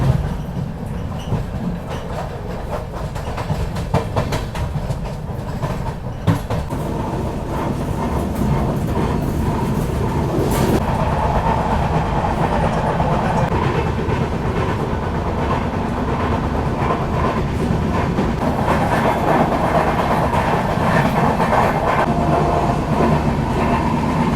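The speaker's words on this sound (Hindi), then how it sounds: "ट्रेन काफ़ी अच्छी रफ्तार में चल रही है" The Mumbai–Madgaon Tejas Express runs steadily at speed past Sawantwadi Road station with a loud, continuous rumble and rattle, faint clacking of wheels underneath, no voices.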